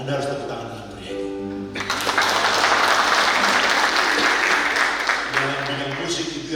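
Applause from an audience at a church retreat session swells up after a few seconds of voice, a broad dense wash of clapping that holds steady, then tapers as talk returns at the end.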